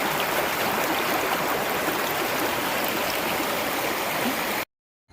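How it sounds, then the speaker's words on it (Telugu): A stream fed by the Vennela waterfall rushes steadily and loudly close by, a dense unbroken roar of flowing water that cuts off abruptly near the end. "వెన్నెల జలపాతం నుండి వచ్చే నీరే ఈ సెలయేరు"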